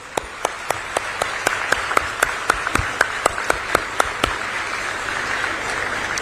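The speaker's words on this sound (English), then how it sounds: "So please give them a big round of applause." A large audience applauds teachers at a university convocation ceremony, a loud, sustained wash of clapping with one nearby pair of hands striking sharp, evenly spaced claps over the top for most of the stretch.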